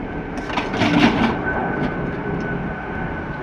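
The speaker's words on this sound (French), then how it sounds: "On a un avion qui passe" An airplane passes overhead as a broad, steady roar that swells slightly and then holds, moderately distant, with no talking over it.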